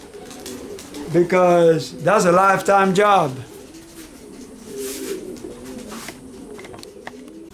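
Pigeons in a new loft coo loudly in a run of close, throaty calls early on, then someone talks while fainter bird sounds continue beneath.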